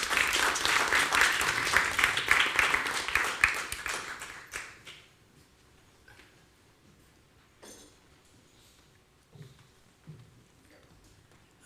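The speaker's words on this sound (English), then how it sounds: "Another round of applause," At a zoo research conference session, an audience gives a round of applause that is steady and fairly loud for about four seconds, then fades out, leaving faint scattered taps and room noise.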